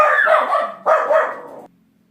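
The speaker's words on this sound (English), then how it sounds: "My Schnauzer's messing up the shot" A Schnauzer barks in two close, loud bursts indoors, each a quick run of yaps. A short quiet pause separates them, and silence follows.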